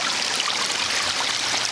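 Water runs from a homemade backyard pond waterfall, a steady close splashing trickle that holds even and unbroken throughout.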